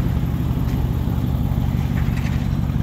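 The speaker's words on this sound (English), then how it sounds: "The exhaust sounds mean." A 2005 Mercedes E55 AMG with a supercharged engine of about 500 horsepower, its exhaust giving a steady, deep low rumble close by with no talking over it.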